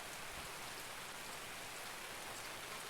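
Steady rain in the video game Escape from Tarkov, a dense, even hiss of rainfall on surfaces that fills the whole clip without letup and with no voices.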